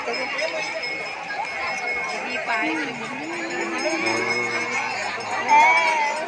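A dense crowd gathered at the Girola hill temple near Sakoli for a memorial day of Iwane Maharaj, with a steady loud babble of many overlapping voices and chatter, close and continuous.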